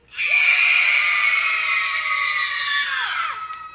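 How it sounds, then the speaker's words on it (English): A group of boys at a day camp screams as loud as they can in one sustained, piercing burst lasting about three seconds before trailing off, with no talking. "I want boys to stand up and scream as loud as you can"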